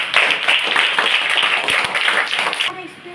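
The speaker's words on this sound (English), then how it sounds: "clap for 4 generations." An audience claps together in a dense, steady patter of hands that fades out near the end, with faint talk mixed underneath.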